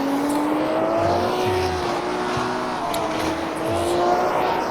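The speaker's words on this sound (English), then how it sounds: "The Porsche, you can see it is quite light, easy to just apply enough throttle to have the rear end kick out a little bit." A 1973 Porsche 911 in the rFactor2 racing game, its engine droning steadily with rising and falling pitch as the throttle works, with brief tire noise as the light rear end slides, loud and continuous with no talk.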